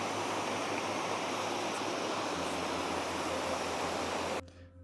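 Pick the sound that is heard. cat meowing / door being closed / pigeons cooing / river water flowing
river water flowing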